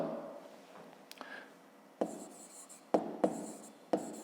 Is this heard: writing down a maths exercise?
yes